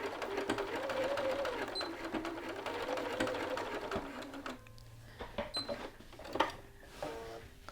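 Sewing machine stitching a back tack on a jacket lapel, a fast rhythmic whirring run for about four seconds that slows and stops, followed by sparse clicks and handling noises nearby.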